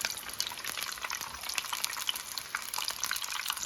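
Potato rolls frying in hot oil, giving a steady, dense crackling sizzle with constant bubbling close by and no talking.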